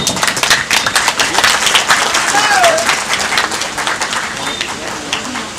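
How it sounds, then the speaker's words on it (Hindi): A crowd claps steadily at a one-day gathering on a high school campus in Sahebganj, with dense, loud applause running throughout and voices talking over it. "ताली बजा।"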